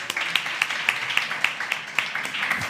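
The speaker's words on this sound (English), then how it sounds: "A round of applause for our panel." A conference panel audience applauds on a summit stage, steady clapping from many hands with sharp individual claps standing out at a brisk, regular rhythm, fairly close and moderately loud.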